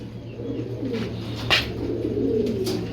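Pigeons coo softly and continuously in a loft full of birds, a low murmuring chorus with a few brief louder rustles and wing movements.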